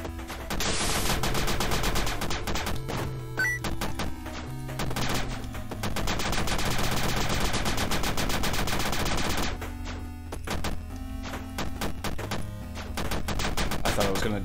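Sustained gunfire in a Resident Evil-style video game as enemies are shot, with long bursts of rapid, loud, close shots that pause briefly and then resume.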